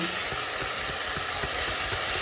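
Crab frying in a pan with onions, a continuous close sizzle with faint rhythmic stirring scrapes underneath, no one speaking.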